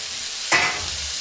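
Sweet corn and peas dropped into a pan of frying vegetables set off a sudden loud sizzle that quickly eases into a softer hiss, with no voices.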